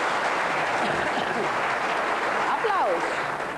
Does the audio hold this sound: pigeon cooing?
no